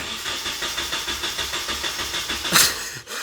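A Nissan 240SX engine cranks without catching because the fuel pump is not priming; the starter churns in a steady rhythmic whir, near and loud, then cuts off with a brief click.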